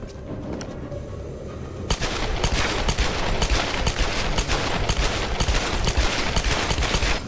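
Rapid gunfire from dual pistols in the Tomb Raider video game, a dense, loud run of shots crackling almost continuously after a brief quieter lead-in.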